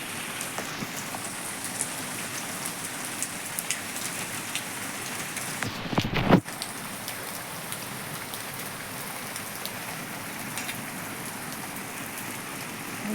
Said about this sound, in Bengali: দেখো বন্ধুরা ঘর থেকে কি সুন্দর বৃষ্টি হচ্ছে দেখো